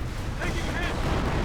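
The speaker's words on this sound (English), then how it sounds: "Brings off artillery support." Artillery barrage rumbling in the real-time strategy game Company of Heroes, a steady low roar of distant shelling with faint whistling tones over it, heard alone.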